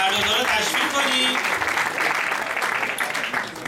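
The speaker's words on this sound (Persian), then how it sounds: "یه تشویق بکنید هر دوتا رو، هر دوتا رو تشویق کنید" Audience at an Eid al-Ghadir youth contest celebration claps steadily for two young participants, sustained applause that thins toward the end.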